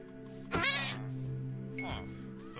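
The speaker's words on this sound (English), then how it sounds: "Oh, I hate you so much, cat." A cat in Minecraft Bedrock Edition gives two clear, separate meows. The cries are distinct and a little synthetic, with quiet game ambience between them and no talking over them.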